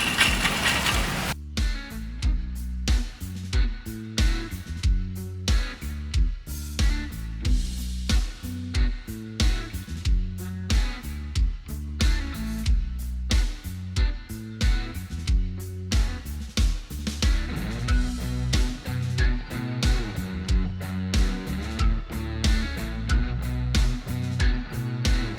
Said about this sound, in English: now we're gonna go ahead and try putting the power steering pulley on